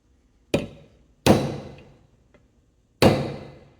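Three sharp metallic whacks from a brass rod striking the hydraulic pump of a 1959 Clark Clipper forklift, each ringing briefly and decaying, spaced unevenly with a faint tap between the second and third.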